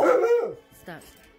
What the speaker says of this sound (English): You're not going outside to bark at people.